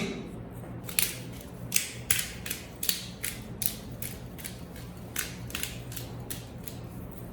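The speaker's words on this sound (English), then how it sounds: "I will add just a little bit of freshly ground black pepper." Freshly ground black pepper cranked from a grinder over a jammy boiled egg, a quiet run of rapid ratcheting crunches and clicks in a steady rhythm, close up with no talking.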